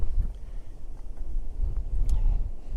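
Strong gusty wind buffets an open outdoor stretch of coast near Colehouse Fort in Essex, roaring low and uneven in rising and falling blasts close to the microphone.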